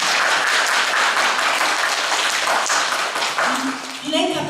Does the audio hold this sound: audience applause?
yes